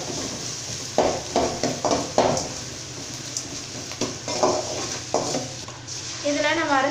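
Onion and spices sautéing in a pan for masala idli, with a steady sizzle and several scraping stirs of a spatula, while a person talks over the cooking throughout.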